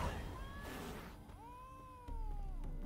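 A cat meows in The Witcher 3 game, two drawn-out mewing calls close and clear, the second a long rising then falling wail over a low ambient hum.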